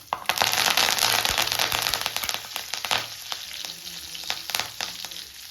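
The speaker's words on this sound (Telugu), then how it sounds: "అదే నూనెలో కొద్దిగంత పసుపు, ఆవాలు, జీలకర్ర వేసుకొని కొద్దిగంత కరివేపాకు" Turmeric, mustard seeds, cumin and curry leaves hit hot oil for tempering, giving off a loud, crackling sizzle with popping bursts that eases toward the end.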